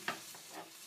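Water is poured onto roasted cumin and coriander in a hot pan for a kashayam, giving a brief, soft sizzle and hiss with a couple of sharper splashy bursts, close up and alone.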